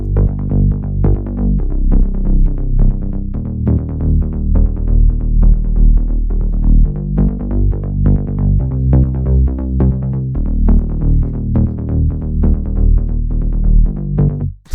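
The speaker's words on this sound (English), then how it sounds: "After that, we have the bass line," Techno bass line in an old school rave style, a simple repeating sequence pattern of deep pulsing notes that runs steadily and loud throughout, with no voices.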